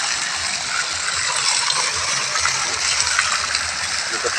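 Water flowing and splashing steadily while the water in a filter setup is being changed, a constant hissing rush close by.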